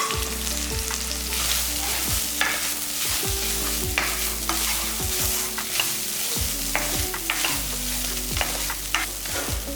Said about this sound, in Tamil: பாருங்க, இந்த அளவுக்கு நல்லா வதக்கினா போதும்